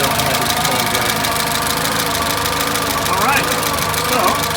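A 1948 Crosley CoBra engine in a wagon runs steadily with the hood up, a close, continuous mid-pitched idle with a light knocking rhythm and faint rising whines, under someone talking.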